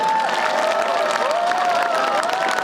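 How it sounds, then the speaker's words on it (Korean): A crowd at a half-marathon celebration performance cheers and claps in a continuous roar, with a sustained tone held over the noise throughout. "큰 박수 한번 부탁드릴게요"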